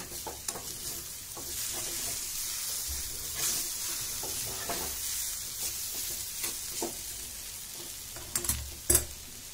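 Batter made with hadga flowers sizzles and hisses steadily while frying in a pan, with occasional soft scrapes and knocks as it is turned over, and no talking.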